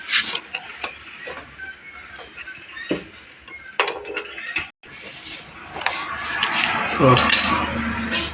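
Metal clinks and scraping taps as a screwdriver pries the engine plate out of a Hero Splendor Plus motorcycle engine, irregular close-up knocks with a few sharper ringing clinks near the end.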